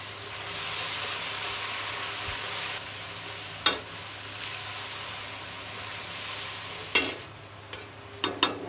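Cumin, coriander, garlic, turmeric, green chilli and salt frying in oil for a shing fish curry with potato and eggplant, a steady soft sizzle with a few sharper stirring scrapes near the end.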